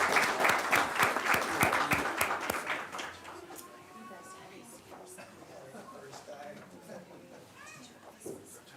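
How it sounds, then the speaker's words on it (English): An audience at a school board meeting gives the students a round of applause, loud dense clapping for about three seconds that tapers off, followed by quieter room murmur and voices. "Let's give them one more round of applause"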